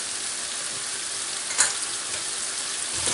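Thyme, peppercorns and cumin fry in oil in a pan with a steady, bright sizzle and crackle, close up, with one brief stir partway through and no talk.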